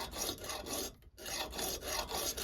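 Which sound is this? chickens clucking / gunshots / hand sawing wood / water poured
hand sawing wood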